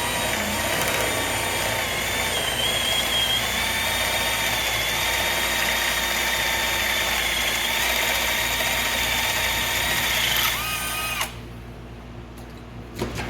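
A power drill bores a hole during suspension work on an LS-swapped Chevy S-10, whining loud and steady for about ten seconds before cutting off abruptly, followed by a few faint clicks.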